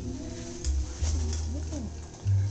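A pigeon cooing nearby in short low throaty bursts, a few repeated coos separated by brief pauses, no clear talk.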